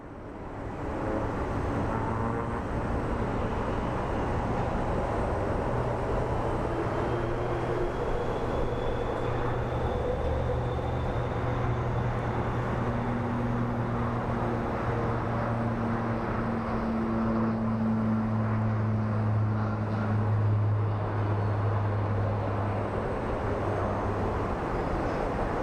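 A Boeing KC-46 Pegasus tanker passes at Phoenix Sky Harbor airport, its jet engines a loud, sustained roar that swells and holds with a slowly shifting whine as the aircraft moves past.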